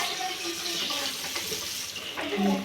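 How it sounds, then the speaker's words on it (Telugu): Water streams from a freshly cleaned tap into a wash basin, a loud, close, continuous splashing flow that swells slightly near the end. "ఇప్పుడైతే వాటర్ వేసేసి చూపిస్తాను మీకు"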